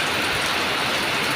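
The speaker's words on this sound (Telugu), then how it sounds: "మా చెక్ పోస్ట్లో వాన పడతా ఉంది" Steady rain falling at a village checkpoint, a dense, even hiss of drops on surfaces that holds at the same level from start to finish, with no voices.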